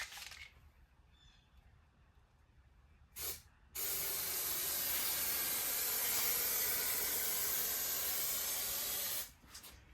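An aerosol can of texture coat sprays onto the cracked dashboard of a 1974 Trans Am, a brief spurt first, then one long steady hiss lasting several seconds, close and alone.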